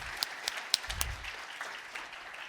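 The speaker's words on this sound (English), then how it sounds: "So a round of applause for all of our awesome contributors." Audience applause at an education game conference's opening remarks: light, scattered clapping from a modest crowd, fairly faint and thinning out as it goes on.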